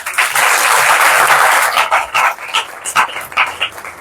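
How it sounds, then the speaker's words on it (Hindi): Audience at a gathering in Delhi, India, held to welcome a sadhu, claps loudly. A dense burst of applause thins after a couple of seconds into scattered, uneven individual claps. "इसलिए जोर से अब ताली बजाओ"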